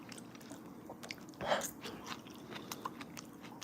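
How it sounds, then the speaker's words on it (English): Someone chews a forkful of caramelized onions with rosemary, a soft, close, moist mastication with a single louder crunchy bite partway through, alone without talk. "Let's try a fork full of onions. Caramelized onions."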